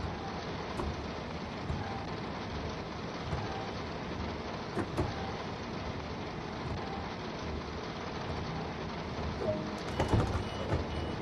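Steady rain hisses continuously inside the Train Sim World 2 train simulator on the East Coastway route with a Class 377 unit, a dense, even wash with occasional soft patters and heavier bursts near the end, with no talking.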